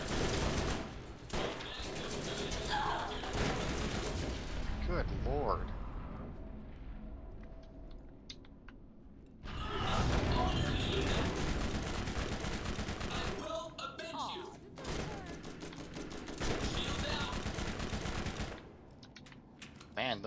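Turret gunfire in the video game Borderlands, with long stretches of dense rapid automatic shots and explosions in a loud, continuous barrage, broken by a brief lull, with a voice speaking briefly over it.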